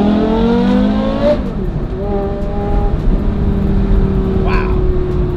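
A supercar with racing heritage, one of a limited production run, revs its engine close by; a loud, steady roar rises and falls in pitch with overlapping harmonic sweeps over about five seconds.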